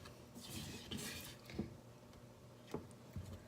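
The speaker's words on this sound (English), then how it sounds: "And we are just going to give that a stir." A spoon stirs keto granola mixture in a bowl, making soft close scraping and a few light clinks at irregular intervals, quiet with no talk.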